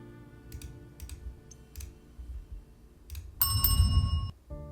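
A bell rung to end the day in an indie mystery game gives one bright, ringing hit with sustained metallic overtones, rising over quiet background game sounds and soft clicks.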